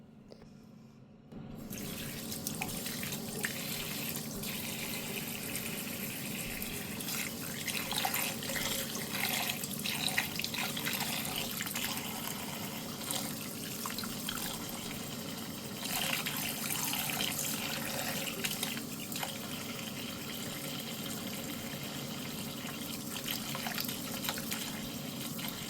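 Tap water runs into a sink or tub while a silicone baby doll is bathed. After a quiet first second there is a continuous, even rush of running water for over twenty seconds, with no voices.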